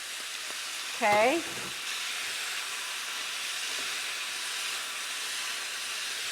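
Zucchini hits a hot pan and sizzles with a steady, close hiss that continues throughout the stir-fry, and someone briefly speaks over it near the start.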